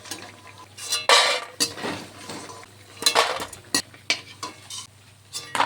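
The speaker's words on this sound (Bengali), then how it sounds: "আলুটিকে একটু নেড়েচেড়ে সামান্য একটু নুন দিয়ে আলুটিকে ভেজে আমি তুলে নেব।" Potatoes stirred and fried in mustard oil in a pan, with a metal spatula scraping and clattering against the pan in irregular bursts and a soft sizzle underneath, close and moderately loud.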